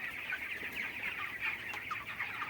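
A flock of chickens clucking steadily inside a large poultry farm, overlapping soft calls from many birds forming a continuous low chatter, no voices.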